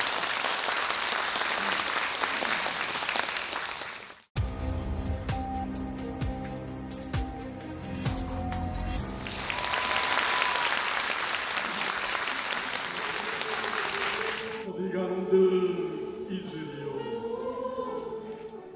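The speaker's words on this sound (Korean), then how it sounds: "여러분 뜨거운 박수로 맞아주시기 바랍니다" An audience claps warmly for a senior silver choir at a staged performance, with full applause at the start, a stretch of music in between, then a second long burst of clapping before singing and music take over.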